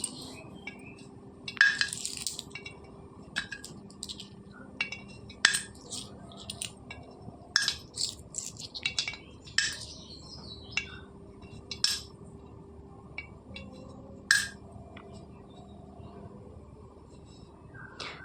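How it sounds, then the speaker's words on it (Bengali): Coins drop into a clay pot, giving scattered quiet metallic clinks and chinks at irregular intervals across a faint, hushed background. "তো চলো এই হাঁড়িটাকে কিছু টাকা ভরি।"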